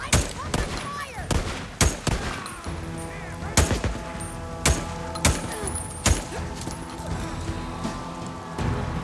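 Gunfire from the video game Days Gone rings out in sharp, irregular shots and short bursts over a battle scene, loud and close, with voices calling out between the shots.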